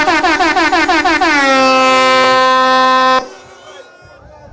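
A crowd honks vehicle horns at an outdoor playing field, quick stuttering pulses, then a long sustained blast that ends abruptly, leaving faint background noise.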